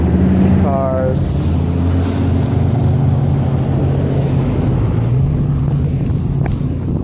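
Cars passing on a somewhat busy street near a railroad crossing in Chickamauga, Georgia, a continuous loud roar of engines and tyres swelling as vehicles go by, with a short chirp early on.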